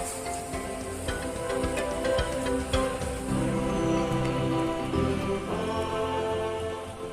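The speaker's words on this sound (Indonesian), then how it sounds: "sepertinya jenis hujan gemericik ini bakal awet" Steady light rain pattering on surfaces, a continuous soft hiss with scattered drips, constant throughout with no voices.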